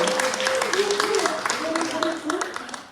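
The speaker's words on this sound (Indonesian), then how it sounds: "Berikan tepuk tangan kemuliaan bagi Tuhan kita Yesus" A congregation claps through a women's church service, the steady patter of many hands running under a sustained voice and tonal sounds for the whole stretch.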